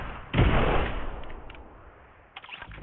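A single heavy gunshot from a Fortnite match booms up close and rolls into a long fading tail, followed by a couple of faint clicks and a softer distant thud.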